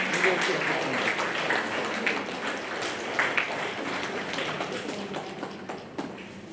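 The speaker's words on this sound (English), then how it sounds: "Please join me in offering a big round of applause to our Director, Shri CM Faiz Mohammed." Audience applause for the director at a Teachers Day celebration at an Indian institution, steady moderate clapping from a crowd throughout, with some chatter mixed in.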